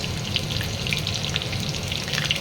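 Green chillies and chopped garlic fry in hot oil for chilli chicken, a dense, crackling sizzle that holds steady and close with tiny pops sprinkled through it.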